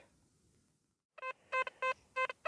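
After a quiet second, an XP Deus II metal detector gives a target signal outdoors on land: a series of short electronic beeping tones in quick bursts, about five pulses, clear and close.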